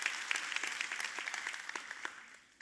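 A church congregation at a Father's Day service claps in a dense, steady patter of many hands that fades toward the end.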